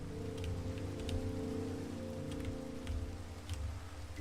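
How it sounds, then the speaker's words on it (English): Steady rain falls in a Minecraft world during dark, stormy weather over a wheat farm, a soft continuous patter with scattered drop ticks over a low ambient hum, fairly faint and without talking. "the rain coming down to fertilize the crops"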